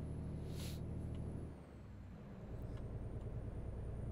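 A truck engine in American Truck Simulator runs steadily and loudly throughout, with a low rumbling drone, a brief dip in the middle and then a rhythmic idle-like chug.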